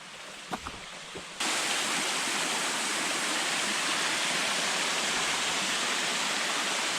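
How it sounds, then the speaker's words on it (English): After a second of quiet with a few soft knocks, a loud, steady waterfall roar comes in abruptly and fills the rest. "Heard what sounds like another waterfall from the water"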